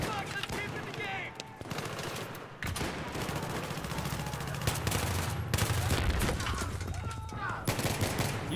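ACR rifle fire rattles through a Battlefield 3 match on the Markaz Monolith map in Scavenger mode on PS3, dense gunfire in sustained bursts mixed with game effects, while a person talks over it.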